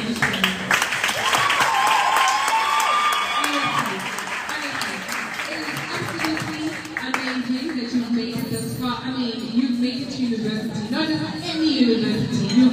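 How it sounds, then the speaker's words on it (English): Audience applause at a Wits University graduation ceremony, a dense steady wash of clapping from a large crowd that carries through the whole stretch, with voices and tonal sounds mixed in underneath. "Big round of applause for every single one of you."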